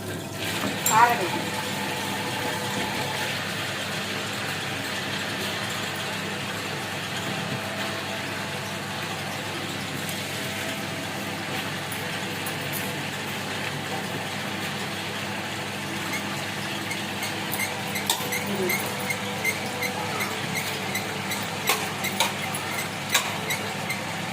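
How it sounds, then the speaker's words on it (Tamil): A wet grinder churns soaked rice for adai batter in a village kitchen, a steady continuous whirring drone with faint scraping that runs throughout, with occasional talk over it. "அதே கிரைண்டரில் அப்படியே இந்த அரிசி அரைச்சிக்கணும்"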